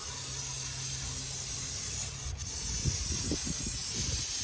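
Liquid cleaning product is sprayed onto a Ford Mustang EcoBoost engine bay, giving a faint, continuous airy hiss with low muffled knocks near the end and no voices.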